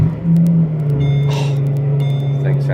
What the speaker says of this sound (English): about to start up the car right now